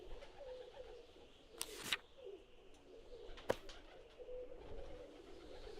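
Pigeons coo softly in the point-and-click adventure game Randal's Monday 2, low repeated calls over a quiet ambient background with a couple of brief sharper noises.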